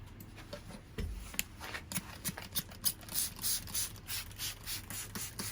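Repeated quick pumps of a spray bottle misting plants with CalMag hiss in short bursts, close and fairly quiet, following a few handling clicks.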